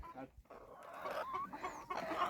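Farm chickens clucking softly and steadily at close range, with murmuring voices mixed in.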